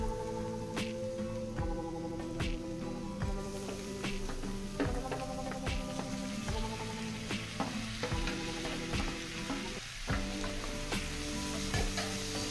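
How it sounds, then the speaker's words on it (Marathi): Ivy gourd and chana dal fry in a pan, giving a close, steady sizzle with repeated sharp clicks and scrapes from stirring against the pan. "म्हणून एक 5 मिनिटं हे दोन्हीही छान परतून घ्यायचं"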